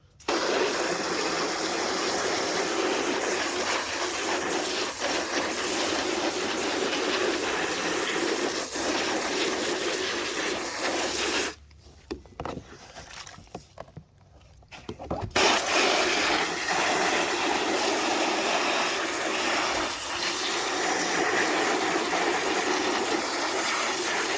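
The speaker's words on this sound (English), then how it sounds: "And then basically hose it, give it a good hose down." Hose spraying water to clean fodder-growing trays, a loud steady hiss of water that cuts out for a few seconds midway, then resumes strongly and continues.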